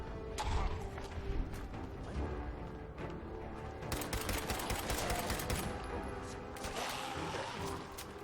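Rapid gunfire from a weak gun in Fallout 4, a dense run of sharp crashing shots packed close together over steady game ambience, loud and continuous with brief pauses between bursts.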